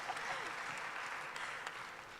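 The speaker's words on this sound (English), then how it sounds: "3 cheers for her. Please applaud." Audience applause at a live-streamed gathering, a steady wash of clapping from a crowd that holds evenly throughout, with a few voices faintly mixed in.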